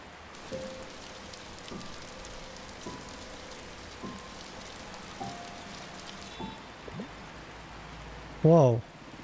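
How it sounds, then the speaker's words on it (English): Rain in the video game Until Then, a soft steady patter with scattered drops under quiet background sounds, ending in a brief louder sweep. "Now it's pouring down."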